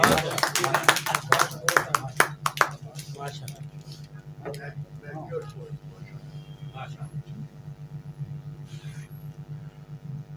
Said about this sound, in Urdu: تالیاں جی بھرپور